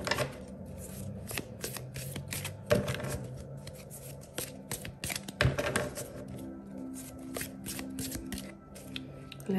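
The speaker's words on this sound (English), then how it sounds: "let's pull a couple of cards from the Tea Leaf Tarot" Someone shuffles a Tea Leaf Tarot deck close by, producing continuous soft riffling and papery slaps with sharper card snaps scattered throughout, all fairly quiet.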